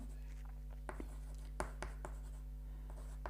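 Chalk or marker writes on a board during a chemistry lecture on SN2 reactions, giving scattered taps and short scratchy strokes over a steady low room hum.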